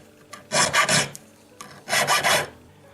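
A 1.8mm tapered burr cutting a claw groove in a six-claw split ring, two short close rasping bursts of grinding, each with a quick pulsing texture, separated by a brief pause.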